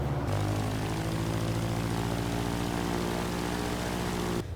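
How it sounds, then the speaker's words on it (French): A Robin DR400 light aircraft's propeller engine catches after a starter crank and settles into a loud, close, steady drone that runs until the very end. "ça fait un sacré bruit ce moteur"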